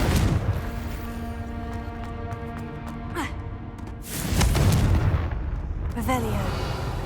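Confringo blasting spell explosions in the Hogwarts Legacy video game: a few booming, crackling bursts, the loudest near the middle, over a steady bed of game music and ambience.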